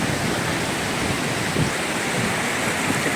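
Spring water flowing out of the ground, a steady broadband rushing and splashing that stays even and fairly close from start to finish, with no voices.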